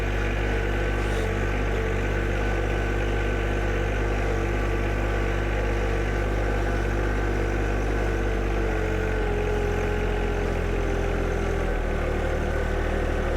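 A tractor engine runs in low range above 2,000 RPM, a steady, loud mechanical drone with a low throbbing rumble that holds constant throughout, no voices.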